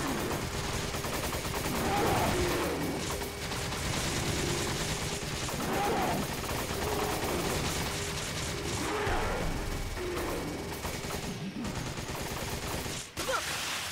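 Sustained gunfire in the Resident Evil 5 video game, with rapid repeated shots over dense combat noise throughout and a voice speaking faintly at moments.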